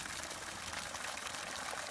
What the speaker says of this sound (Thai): วันนี้ดูดน้ำแรงนะครับน้ำเป็นท่ออยู่